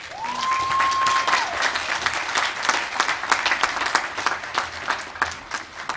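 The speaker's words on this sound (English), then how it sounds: "You may now applaud these graduates" Audience applause fills a university graduate and professional commencement ceremony as graduates receive diplomas, steady dense clapping throughout with a brief tonal whistle-like sound early on.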